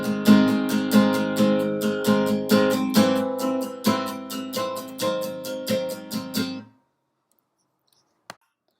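A guitar plays the chord sequence of a song as a run of strummed chords in a steady rhythm, close and clear, with each strum ringing before the next. The chords end abruptly and are followed by silence and one faint click.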